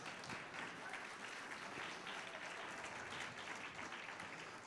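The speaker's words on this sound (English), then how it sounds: "We need to stop and give this girl a hand clap." An audience claps steadily and evenly throughout, sustained applause heard faintly with no voices over it.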